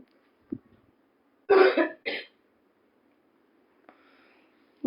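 Two sharp coughs come in quick succession in a quiet room, with a few faint clicks before and after.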